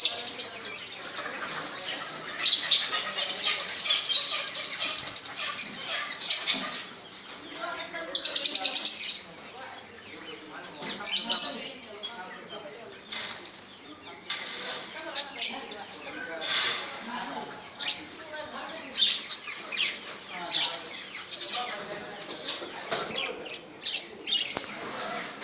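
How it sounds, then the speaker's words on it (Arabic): Parrots, ring-necked parakeets among them, squawk and flap at a busy Shubra bird market alongside canaries and pigeons, with dense overlapping calls and wingbeats, sharp shrieks near and far, and background voices. "هذا ببغاء الدرة."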